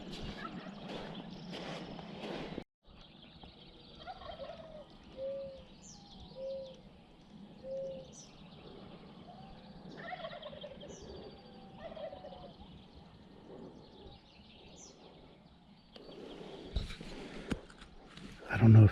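Rio Grande turkeys on public land in Colorado gobble from across a river, the calls faint and distant and repeated several times, with close rustling and handling noise at the start and end.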